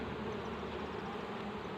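Dense, steady buzzing of many honey bees swarming around a large hive, a continuous close drone with no pauses and no talking.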